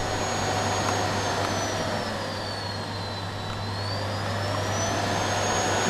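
A Miele Boost CX1 vacuum cleaner runs steadily with a soft start, giving a continuous even whoosh and motor hum with a faint high whine that dips and rises in pitch, with no talking.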